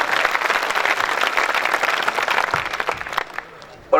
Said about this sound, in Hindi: जोरदार तालियां बनती हैं आपकी